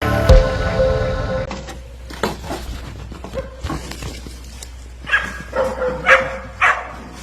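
A dog barks and whimpers in a string of short yips and bow-wows, close and fairly loud, after an opening clatter.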